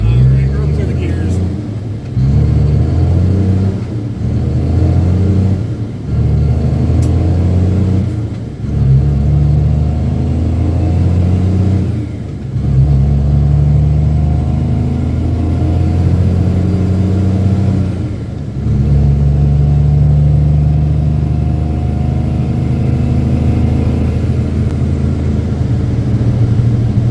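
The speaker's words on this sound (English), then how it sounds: "Alright, run through the gears." Diesel engine of a Cummins M11 dump truck rumbles loud and close as it works up through the gears, each shift marked by a brief dip before the engine pulls again, with a low steady drone throughout.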